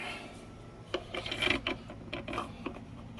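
A garbage disposer assembly is tightened together beneath a kitchen sink, producing brief, close scraping and rubbing bursts with faint mechanical clicks after a quiet start, with no voices.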